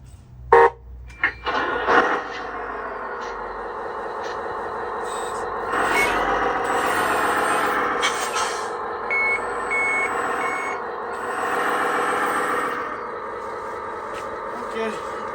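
An RC 1/14 scale truck loader's sound module plays a diesel engine idling and revving with repeated electronic reversing beeps, slightly distorted through a small speaker, with short clicks at the start.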